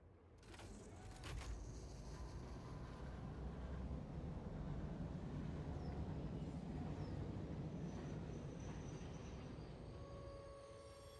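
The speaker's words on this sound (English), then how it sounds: "Alright, let's bring the train up though." A freight train moves along its track in the factory-building video game Satisfactory, giving a steady, dense rumble that swells in the first second and holds loud for the whole stretch, with faint higher whines riding on top.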